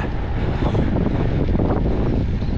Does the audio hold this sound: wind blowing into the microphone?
yes